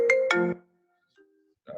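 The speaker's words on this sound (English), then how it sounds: "Oh, my phone is ringing." A mobile phone ringtone plays loud and close, two bright chiming tones lasting about half a second, then a faint tone and a short burst near the end.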